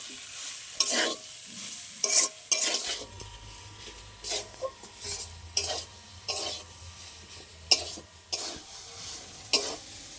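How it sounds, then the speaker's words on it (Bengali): Potatoes with salt and turmeric sautéing in a hot pan, a steady low sizzle broken by repeated scraping stirs of a spatula, close and moderately loud. "একটু ভালো করে আলুটা আমি কষিয়ে নেবো"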